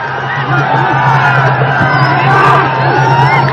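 Palestinian football fans roar loudly and continuously in the stadium during a Sri Lanka versus Palestine match, a dense wall of cheering and shouting that swells slightly midway.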